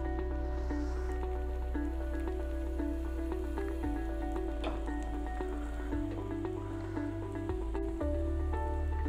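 A sweet poli cooks on a hot tawa with ghee poured around it, giving a continuous soft crackling sizzle with faint popping, steady throughout over a low stove hum, no voices.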